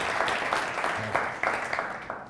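Faint, sparse applause from a small audience at a workplace quality update meeting, scattered individual claps standing out over a soft background wash, with a brief murmur of voice.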